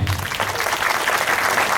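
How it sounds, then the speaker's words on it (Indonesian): Audience applause at a public gathering in Kediri, a continuous wash of many people clapping, moderately loud and steady, with a voice briefly heard at the start. "Tepuk tangan untuk Kota Kediri."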